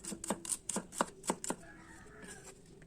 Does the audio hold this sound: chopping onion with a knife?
yes